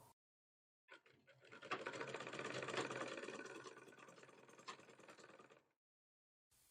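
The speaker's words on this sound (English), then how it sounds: "So I'll go to my sewing machine now and sew." Sewing machine stitching fabric for a child's ball dress, a steady close mechanical whirring run of about five seconds that starts abruptly and stops cleanly.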